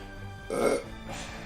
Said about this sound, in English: Sorry, I think I have to burp.